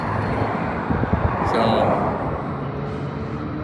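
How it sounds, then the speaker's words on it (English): Freeway traffic rushes past steadily from nearby on southbound Route 15, a broad continuous roadway roar with a passing swell near the middle, while people talk over it. "There is traffic."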